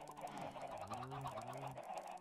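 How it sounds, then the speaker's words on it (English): Chickens cluck and squawk in a Minecraft chicken farm built with redstone, a steady crowd of game fowl calls running without pause. "look at all the chickens that are in the redstone part of the chicken farm"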